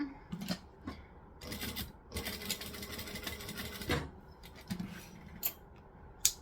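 A sewing machine stitches a Kayla bag in short bursts of rapid mechanical chatter separated by brief pauses, quiet and close.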